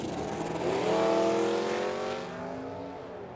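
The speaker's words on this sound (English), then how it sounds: "Camaro trying to hold off that hard charging Tom Schola Mustang." A Camaro and a Mustang launch side by side down a drag strip in a team race at Firebird Raceway, engines roaring loud and close, swelling then fading as the cars pull away.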